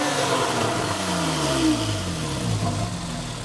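A 2013 Porsche 911 Carrera 4S with Sport Exhaust, its flat-six engine revving steadily at close range with sweeping pitch changes as it accelerates, continuous and fairly loud with no talk.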